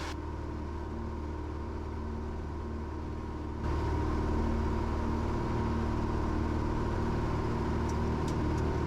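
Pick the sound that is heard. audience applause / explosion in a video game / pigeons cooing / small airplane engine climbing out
small airplane engine climbing out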